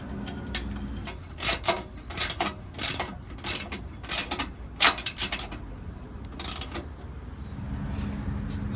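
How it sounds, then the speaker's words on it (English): A Jeep bumper being screwed in from underneath, a series of rapid ratcheting clicks in short bursts with pauses between, close and fairly loud over a steady background hum. "We're gonna crawl underneath, screw it in from the bottom."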